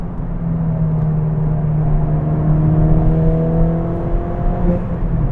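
A stock Ford Fiesta ST accelerates along a country road, its engine giving a steady, loud droning hum that rises gently and holds without pops or bangs.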